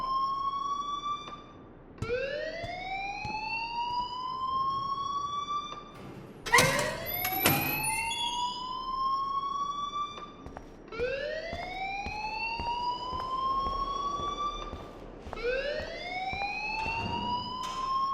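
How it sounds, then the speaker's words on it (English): A rising, wailing electronic alarm sounds inside a school in the video game Life Is Strange, repeating in long upward sweeps about every four seconds with a brief harsh burst midway, loud and steady with no talk. "please turn off that alarm since that's your job"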